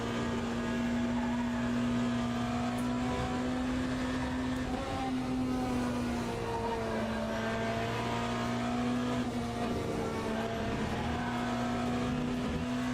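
BMW hypercar engine in Le Mans Ultimate, a steady loud droning race-car note held at near-constant revs for the whole stretch, with slight pitch shifts and no talking.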